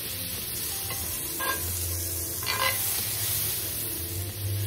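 Butter melting in a hot pan used for blackened chicken and shrimp in a Cajun pasta, a continuous even sizzle with low hum underneath and a couple of brief brighter spits.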